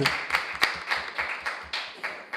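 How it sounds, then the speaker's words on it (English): Applause for a debate team at an awards announcement, heard as a small group's rhythmic, fairly sparse clapping with distinct individual claps, moderately close, without talk. "yes, they are in fact deserving of a rousing applause."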